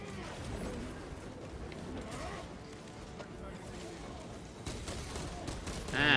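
Gunfire in Warhammer 40,000: Space Marine 2, a steady stretch of rapid shooting and combat noise running throughout, peaking louder at the very end, with a voice talking over it.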